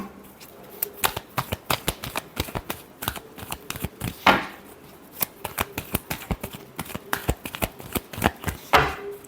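Tarot cards are shuffled close up in rapid, uneven bursts of riffles, slaps and soft flutters, with a couple of longer swishes and no speech.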